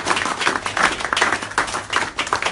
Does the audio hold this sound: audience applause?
yes